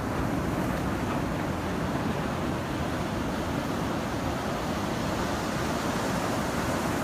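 Ocean waves wash onto a beach in a steady, loud roar of surf that fills the whole stretch without pause, with no voices.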